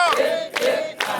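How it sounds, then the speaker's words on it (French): A crowd at a parade lets out loud bursts of cheering in quick succession, three short swells of massed voices close by. "Applaudissons."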